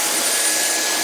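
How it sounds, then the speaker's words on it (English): A Joyami cordless wet-dry vacuum runs on hardwood floors, giving a steady, loud, airy whine and rush of motor and suction with no breaks. "I got me a Joyami wet vac for these hardwood floors."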